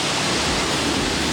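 Sea waves wash on a Turkish beach in Belek, a dense, loud, steady rush of surf noise with no talk.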